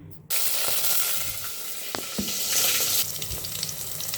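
Oil sizzles and crackles in a pan while cooking aloo egg curry, a steady close hiss with brief clatters of stirring, no talk.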